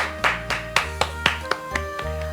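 Congregation applause during a Korean Friday worship service, a series of sharp clap peaks over roughly two seconds, fairly close and moderately loud, with no talking over it.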